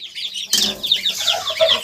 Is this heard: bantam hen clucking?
yes